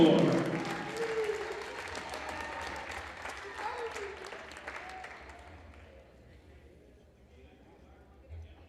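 Applause in a school gym for senior basketball players and their parents, loud clapping from a crowd that fades gradually over several seconds to near quiet, with faint voices underneath.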